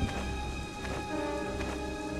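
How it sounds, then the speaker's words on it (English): Steady heavy rain pours throughout a video game scene, with a low rumble of thunder rolling beneath it, loud and continuous with no voices. "Thunder."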